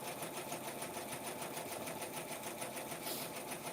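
A Brother PR680 embroidery machine stitches a kids jacket at a set speed, giving a steady, fast, rhythmic mechanical whirr and needle patter close by with no voices.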